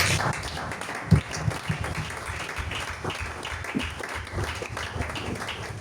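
A church congregation applauds in worship, a steady wash of clapping with a few sharper claps standing out, filling the room at moderate level throughout.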